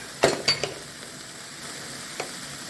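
Red sweet pepper and green onion stir-fried with Thai noodles, a few quick spatula clacks and scrapes against the pan over a light sizzle, close and brief, with no talking.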